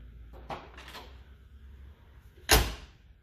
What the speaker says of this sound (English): when you open the door and you shut the door